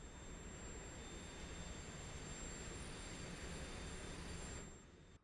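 Simulated airplane engine idling and taxiing on the ground during an Alaska flight expedition in a video game, a steady broadband drone with faint high tones, holding loud and even before dropping off at the end.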